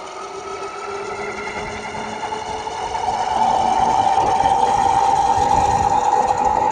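An electric 20x4 in front hub motor spins a bike on a roll road with a 40 amp controller, a loud steady whine that climbs in pitch and volume partway through, then holds high and constant with no talking.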